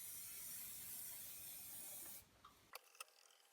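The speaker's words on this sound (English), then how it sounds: "silicone lubricant you can spray on here" Silicone lubricant sprays onto the glide of a WoodRat woodworking machine in a steady hissing burst of about two seconds, followed by a few small mechanical clicks and taps in quiet surroundings.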